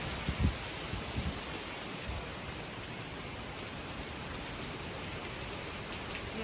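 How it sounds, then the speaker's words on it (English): Hurricane Lee arriving with steady heavy rain and gusting wind thrashing through trees, a continuous dense wash of noise with a few louder thumps early on, no voices. "The Hurricane Lee is just starting to come. You can probably hear it. Trees are going crazy."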